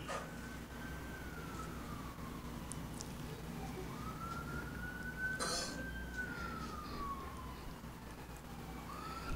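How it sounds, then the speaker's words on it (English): A wailing siren rises and falls in slow sweeps, fairly distant, over steady low traffic rumble. "You hear that siren?"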